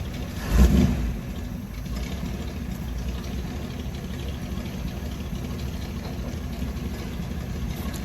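A freshly swapped Chevrolet 283 V8 engine idles in an old bagged car with a 700R4 transmission. A brief thump opens a steady, low, even rumble held close up to the end.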